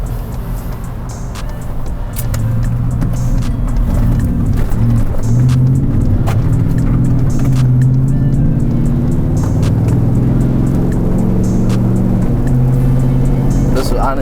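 An 8-inch lifted, tuned Ford F150 with a 5.0 engine driving in rain through traffic, giving a steady low engine drone with road and rain noise from inside the cab, and some faint clicks.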